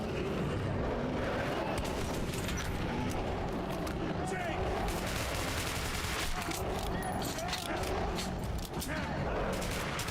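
A shotgun fires repeatedly in Metro 2033 Redux, the blasts sitting amid dense, loud combat noise that continues throughout, with a person talking over it.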